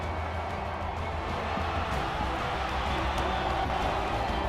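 Sellout crowd at a Florida State Seminoles football game against Oklahoma in Tallahassee, a broad steady roar of cheering filling the stadium, distant and continuous without breaks.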